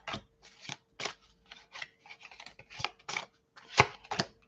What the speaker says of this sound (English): Pulling the Tarot first.